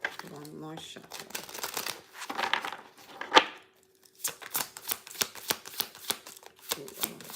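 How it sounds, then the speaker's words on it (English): A deck of tarot cards is shuffled in quick riffling bursts, a flurry of crisp flicks and slaps that pause briefly and then resume, close up, with a voice speaking at the start. "one more shuffle."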